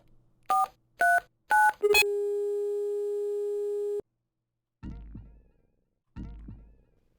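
In the hospital video game R?MJ: The Mystery Hospital, three short touch-tone beeps are followed by a long steady tone lasting about two seconds, then two dull clunks after a silence, all clean and close with no talk.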